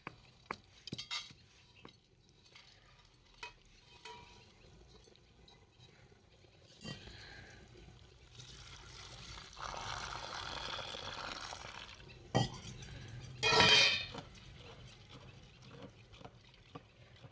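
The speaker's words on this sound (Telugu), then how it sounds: "ఇక అందుకే వాటి వాటర్ పోసి కడుగుతున్నా" Dried prawns are washed in water in a pot, with soft sloshing, scattered clinks against the metal and a louder splashing burst near the end, amid long quiet stretches.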